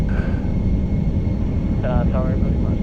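Boeing 747-400 jet engines at takeoff thrust during the roll in a home flight simulator: a steady, loud, dense broadband roar with a faint whine, continuous throughout, with a brief tonal chirp near the end.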